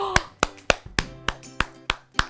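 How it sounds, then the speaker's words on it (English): Nine or so sharp hand claps ring out in a steady, evenly spaced rhythm, close and fairly loud, with faint speech underneath. "I can applaud myself for a job well done."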